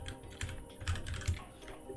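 Computer keyboard keys pressed in quick irregular taps, several keys together at times, close and fairly quiet in a calm room.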